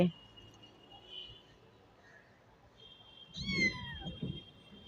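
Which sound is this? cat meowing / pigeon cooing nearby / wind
cat meowing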